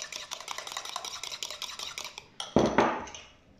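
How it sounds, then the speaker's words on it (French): Pancake batter made with oat flakes and baking soda gets stirred briskly in a bowl, a rapid rhythmic clicking and scraping of utensil against the side, close up, ending in a couple of louder knocks and a fading rattle. "Je mélange bien."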